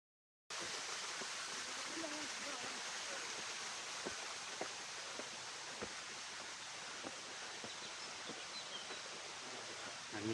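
Steady broadband rush of the Jhor waterfall on a hiking trail, a continuous roar of falling water holding even throughout, with faint rustles and occasional clicks riding on top.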